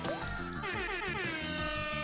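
A loud, blaring air horn sound effect in the video game Omori sounds in repeated bursts with wavering pitch, brash and continuous, over a game-style backing.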